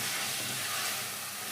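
Green chillies and spices sauté on a high flame for a veg white kurma, a steady close hiss of sizzling oil throughout.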